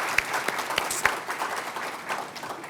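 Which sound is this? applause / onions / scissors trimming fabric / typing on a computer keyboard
applause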